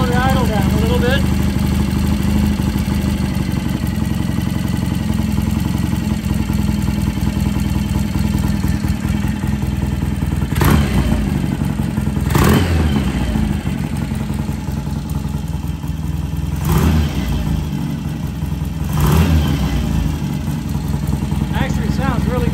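A vintage British motorcycle engine idles with a steady low rumble up close, broken by four short blips of throttle spaced several seconds apart.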